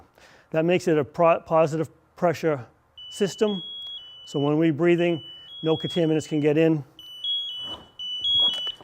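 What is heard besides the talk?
firefighter PASS device alarm check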